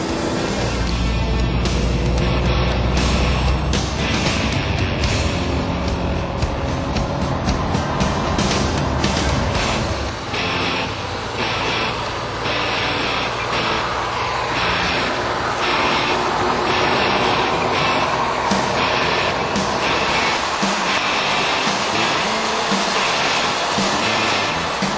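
A Lamborghini Diablo accelerates at full throttle, a loud, continuous engine roar that climbs through the revs, eases briefly and surges again, dominating the whole stretch with no talking.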